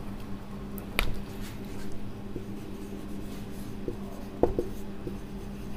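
Pen writing on paper in a chemistry lesson, a soft continuous scratching near and quiet, with a couple of sharper taps or clicks along the way and no talk.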